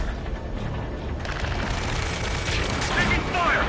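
Gunfire and booming explosions from the combat flight game Ace Combat 7, a dense continuous din of battle, with shouted voices over the mix.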